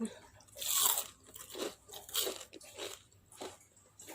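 Crunchy bites into crispy homemade fried bananas, several sharp crackling crunches in a slow irregular rhythm, close and fairly loud, with chewing between and a voice faintly in the background.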